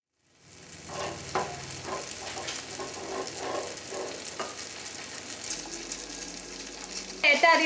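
Kerala achappam rosette cookies fry in hot oil with a steady, close sizzle and bubbling that crackles in bursts, then a louder clatter near the end.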